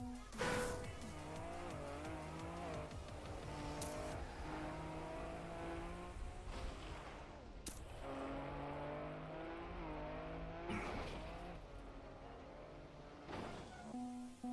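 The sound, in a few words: rally car driving with tire squeals in a racing video game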